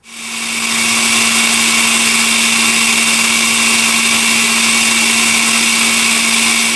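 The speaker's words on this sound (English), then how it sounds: "we're just going to start stuffing parsley in the blender" A blender packed with parsley spins up and runs continuously at high speed, a loud, steady motor whine with a droning hum, close by.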